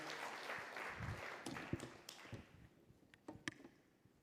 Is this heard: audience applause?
yes